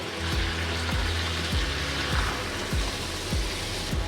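Chicken curry with new potatoes sautéing in a pan, a steady close sizzle and crackle with a recurring low thump through the hiss.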